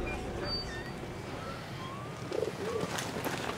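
A pigeon or dove coos in the video game Valiant Hearts: The Great War, soft low calls rising midway through over a steady wash of ambient game noise, with faint chirps around it.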